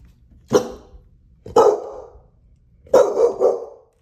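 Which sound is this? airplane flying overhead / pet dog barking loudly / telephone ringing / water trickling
pet dog barking loudly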